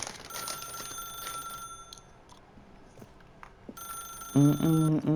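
An electronic telephone rings in The Stanley Parable video game, repeated bursts of bright chiming tones that come and go, fairly faint at first, ending under a louder voice.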